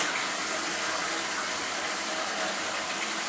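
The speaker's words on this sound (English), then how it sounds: "The tank doesn't fill up to as high a level, so it doesn't use as much water to flush." A toilet tank refills through a newly installed Fluidmaster fill valve, a steady, close hiss and rush of water flowing without a break.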